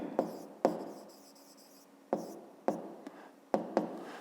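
A pen writes an answer on paper in a quiet room, giving several close, faint scratching strokes in short irregular bursts with brief pauses between them.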